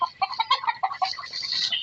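A hen clucks in a rapid series of short, close calls, a quick broken rhythm of about a dozen clucks over two seconds at a rural farm.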